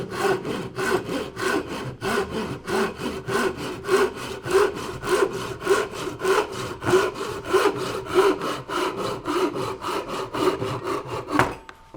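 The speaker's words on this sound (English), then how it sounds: "Get the handsaw out." Handsaw cutting wood on a woodworking board, with rapid, even back-and-forth rasping strokes repeated steadily for about twelve seconds, close and clear with no talking.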